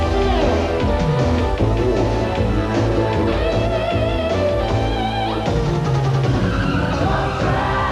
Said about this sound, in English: This is the Major League of Monster Truck Racing, the TNT Monster Truck Challenge.